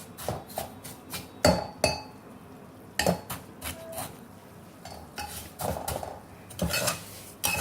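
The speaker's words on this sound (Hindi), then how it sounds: "इसी तरह से हमें लगातार चलाते रहना है जब तक ये लाल ना हो जाए" Vermicelli is stirred and roasted continuously in a pan over a medium gas flame, with a metal spoon scraping and clinking against the pan in irregular knocks and rattles and no voices.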